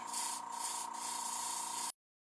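An airbrush sprays paint in a steady close hiss with a few brief pulses, lasting about two seconds before stopping abruptly.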